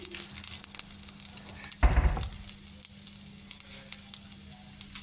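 Curry leaves, chilli and ginger hitting hot oil for a peanut snack, a bright crackling sizzle with a brief louder burst of spattering in the middle, then quieter popping and ticks.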